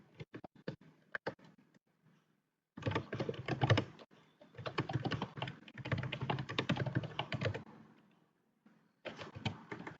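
Fast typing on a computer keyboard during an HTML and CSS coding session, with sparse early keystrokes, then dense clattering bursts separated by brief pauses, close and fairly quiet.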